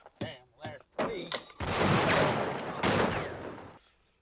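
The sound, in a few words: gunfire sound effect during a shootout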